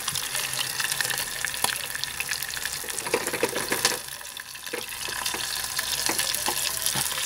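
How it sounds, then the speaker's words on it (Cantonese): A crispy oyster pancake pan-fries in a shallow layer of oil over lowered heat, giving a steady close-up sizzle with crackling spits and a few soft scrapes and no talking. "因為咧你要煎脆下邊嗰度啊"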